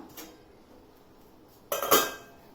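A metal pot set down on the stove before steaming ivy gourd: a faint clink early on, then a louder close scrape and clatter of metal on the burner.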